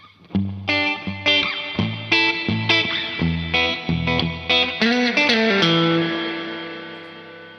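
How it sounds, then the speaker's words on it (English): Plucked electric guitar notes through a reverb and delay pedal on spring reverb, springy and splashy, a quick melodic run ending on a sustained chord that decays smoothly. "Spring sounds really good as well."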